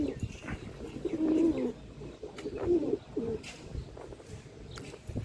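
Pigeons coo in soft, repeated rounded phrases near a nest where chicks have just hatched from eggs, the calls fairly close and mixed with faint background rustling and distant noise.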